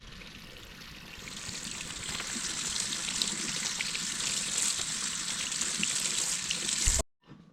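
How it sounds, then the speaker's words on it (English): Tap water runs steadily over squash as they are washed and scrubbed clean in a home kitchen, a continuous close splashing rush that cuts off abruptly at the end. "you do need to make sure to wash these thoroughly and scrub them really clean"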